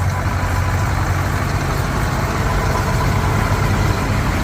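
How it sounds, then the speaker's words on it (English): An Allis-Chalmers cab tractor engine idles steadily at a farm equipment auction, a constant close diesel rumble with no breaks or talking. "Alice Chalmers cab tractor."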